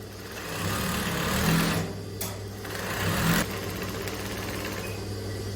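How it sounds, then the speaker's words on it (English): A sewing machine runs a gathering stitch line down skirt fabric, its motor whirring in a steady close drone. It pauses briefly once, then resumes. "you just start sewing straight down"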